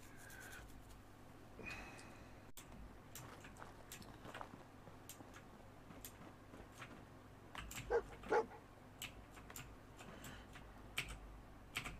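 A dog in Fallout 4 yips and whimpers faintly in short scattered bursts among light clicking and clatter, with a couple of louder yelps near the end.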